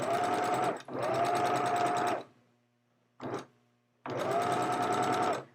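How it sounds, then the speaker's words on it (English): A sewing machine stitches the inside of a shorts waistband in three steady runs with a clear hum, plus a brief burst between them and short silent pauses. "I'm sewing on the inside of the shorts"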